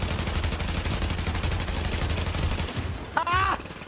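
Rapid, sustained automatic gunfire from a firefight in the video game The Division, loud and continuous for several seconds before breaking off, with a brief shout heard at the end.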